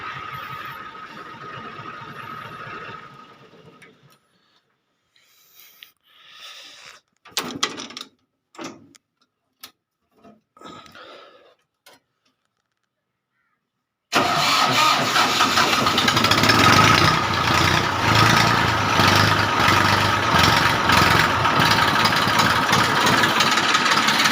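After a quiet stretch, a Massey Ferguson 240 tractor engine cranks in several short bursts on its self-starter, then roars to life and settles into a loud, steady idle.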